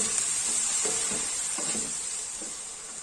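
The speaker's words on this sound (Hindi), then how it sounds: "हमारा प्याज जल्दी फ्राई हो जाए, इसके लिए हमने इसमें डाल देना है जी नमक" Chopped onions with salt fry in a pan for a fish masala curry. A steady, close sizzle continues throughout, with a few soft stirring scrapes over it.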